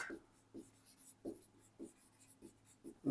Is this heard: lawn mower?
no